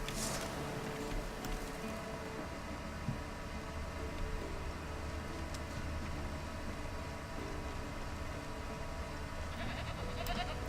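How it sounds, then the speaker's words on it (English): A goat in The Witcher 3 bleats faintly against a steady hiss of game ambience, its cries soft and distant under the continuous background noise. "It is just a goat."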